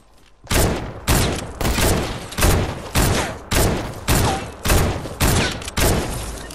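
Gunfire rings out in a Fortnite sniper shootout, about ten heavy, booming shots spaced roughly half a second apart, each with a decaying tail, loud and close.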